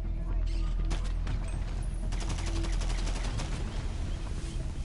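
Gunshots in the game GTA ring out as a quick run of sharp, repeated cracks mixed with mechanical clicks and rattles, set against a steady rumbling background.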